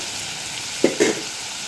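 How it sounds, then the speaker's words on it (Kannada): Tomato and coriander cook in a pan for a dried fish curry, with a constant close sizzle and two brief stirring scrapes near the middle. "ಇವತ್ತು ಟೊಮೊಟೊ ಹಾಕಿ ಮತ್ತು ಕೊತ್ತಂಬರಿ ಹಾಕಿ ಚೆನ್ನಾಗಿ ಬೇಯಿಸ್ಬಿಡ್ಬೇಕೀಗ"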